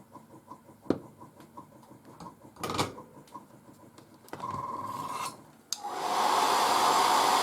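A hair dryer blowing on a freshly painted 1:35 scale M3 Lee tank turret model switches on with a steady loud whir, after a brief earlier burst and scattered light handling clicks, running continuously to the end.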